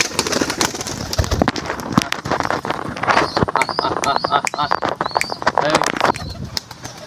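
A flock of white pigeons coos close by, with repeated soft, rolling calls and flapping or shuffling noises throughout, while a person's voice talks over the birds.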